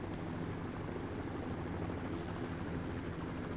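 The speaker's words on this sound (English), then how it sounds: "the helicopter flyover" A helicopter flies over valleys of the Qinghai region on the Tibetan Plateau during a cycling stage race, a steady broadband rotor and engine roar, faint and continuous, with no talking.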